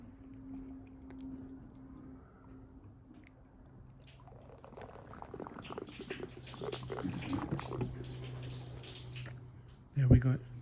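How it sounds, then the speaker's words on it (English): Water poured into the sunroof drain of a 2012 Mini Countryman Cooper D, starting as a soft trickle and building into a louder splashing, gurgling flow, ending in a brief close clatter. "pour some water in here."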